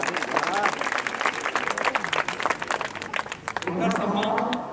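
Audience applause at an award ceremony for a competition, scattered claps rattling across the room, mixed with a speaking voice and fading into a steadier murmur near the end.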